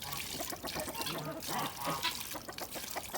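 A garden hose pours water into a disabled duck's outdoor swimming pool, a continuous splashing trickle heard close by, with faint voices and bird sounds mixed in.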